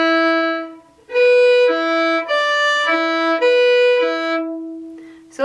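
A fiddle plays the opening notes of the Irish reel Drowsy Maggie slowly and deliberately, each bowed note held and clearly separated, solo and close with no talking.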